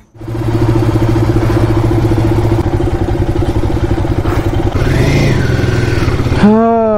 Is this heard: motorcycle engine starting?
yes